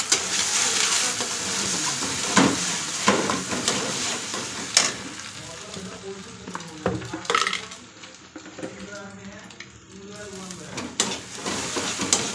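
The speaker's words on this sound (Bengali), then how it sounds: "দেখো এখানে ডিম ভাজা করবো" Egg frying in a pan while making vegetable khichuri at home, a soft crackling sizzle with scraping stirs and occasional clinks of utensil against the pan, fairly quiet and close.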